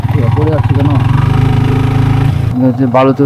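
A motorcycle engine runs loudly and close while the bike is stuck during a ride from Mirinja Valley to Cox's Bazar, a steady rumbling idle with brief revving, and a voice speaks over it near the end.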